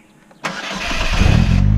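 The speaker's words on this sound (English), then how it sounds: "Put the key in, push it in, and turn it twice" A 2018 Polaris Slingshot SLR LE engine cranks and catches, roaring up loudly and steadily after a brief quiet start, close by with no talking.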